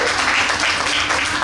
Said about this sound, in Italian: e lo ricorderemo un grande applauso.